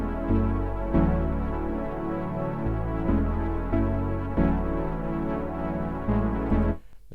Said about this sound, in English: we start with this pad synth